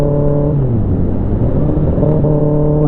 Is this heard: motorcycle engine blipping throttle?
yes